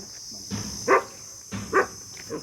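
A dog barks twice at a distance, short muffled woofs about a second apart, with a faint third yelp near the end over a steady hiss.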